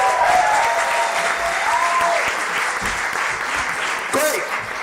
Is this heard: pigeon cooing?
no